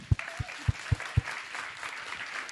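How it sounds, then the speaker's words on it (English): An audience at the Oslo Freedom Forum theater talks applauds in a steady crowd clatter, with several loud thumps up front and the clapping fading slightly toward the end. "Big round of applause for KG."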